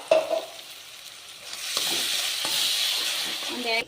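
Homemade puree of two tomatoes pours into a hot frying pan and sets off a steady, close sizzle and hiss, with a short clatter at the start and no talking.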